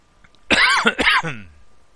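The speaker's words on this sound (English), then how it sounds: "with the cold weather also comes the cough" A single harsh cough, throaty and close, lasting about a second and followed by silence.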